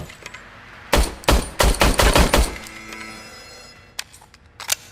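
Service pistol shots at a shooting range in RoboCop: Rogue City, a rapid string of about seven sharp, loud cracks fired in quick succession, followed by quieter ambience and two more isolated shots.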